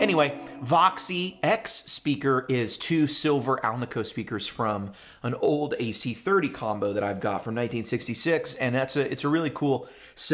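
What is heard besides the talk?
None of the usual background noises is heard.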